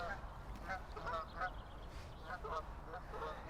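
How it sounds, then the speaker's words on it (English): Geese honk repeatedly at a distance outdoors, a series of nasal calls in irregular bursts over low background hum, fairly faint. "Geese are very inconvenient."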